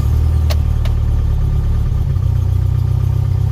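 A Toyota Hilux engine idles roughly after starting, its ignition and carburetor out of tune, giving a steady loud low rumble with a couple of brief sharp ticks early on and no voices.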